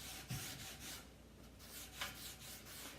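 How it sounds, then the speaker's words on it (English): Scrubbing across a gel-stained wooden piece in a DIY French-style furniture makeover, a soft continuous rubbing rasp with repeated back-and-forth strokes, fairly quiet and close, with no talking. "I'm just going to scrub so that I can get it so it doesn't look like it has gel stain over the top of it"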